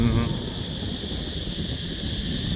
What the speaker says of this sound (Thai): เสียงจักจั่นนี่ประสานเสียงกันนี่บ่มันง่าย